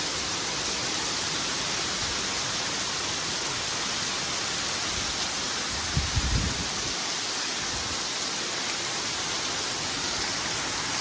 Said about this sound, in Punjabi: ਬਾਰਿਸ਼ ਬਹੁਤ ਜ਼ੋਰ ਦੀ ਬਾਰਿਸ਼ ਪੈ ਰਹੀ